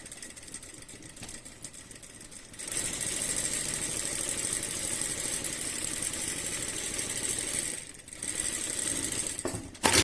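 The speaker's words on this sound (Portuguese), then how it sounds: "vou virar o meu bloquinho e vou costurar o outro lado" Sewing machine stitching down the far side of a small nine patch quilt block, a steady mid-pitched motor whir running continuously with one short pause before resuming, close and alone without talk.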